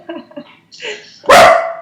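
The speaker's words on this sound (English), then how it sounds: "barking." A dog makes a few soft whimpering yips, then lets out one loud, sharp bark close by.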